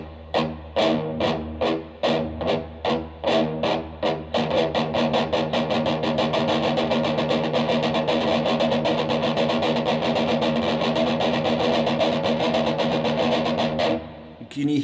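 Heavy metal electric guitar rhythm played with accented downstrokes: distorted palm-muted chugs, first as separate strong hits, then a steady rapid pulse of alternating heavy and lighter strokes that rings on, loud and close, without talk.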